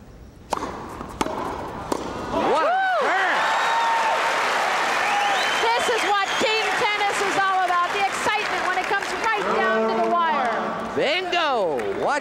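A crowd cheers at a 1978 World TeamTennis match between the L.A. Strings and the Golden Gaters. After a few sharp sounds the noise swells into loud, sustained applause and shouting with whistles and calls, easing slightly near the end.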